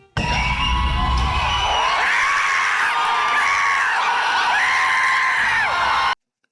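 Packed theater crowd screaming, whooping and cheering at Mexican film icons sharing the screen, a dense, loud and continuous roar of shrill voices that holds steady for about six seconds before cutting off abruptly.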